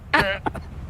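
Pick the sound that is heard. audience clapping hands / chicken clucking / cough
cough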